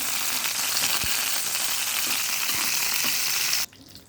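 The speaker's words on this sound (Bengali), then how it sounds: "এখন আমি মরিচগুলো ভেজে নেব।" Chillies frying in hot oil, a dense, steady crackling sizzle heard up close for several seconds with a few soft knocks, then cutting abruptly to near quiet.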